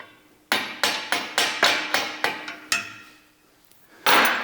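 Hammer strikes tapping a locking pin into a Muskox Max Attach 6-14 attachment, eight sharp metallic blows in quick steady rhythm, close and loud, followed by a pause and a louder clank.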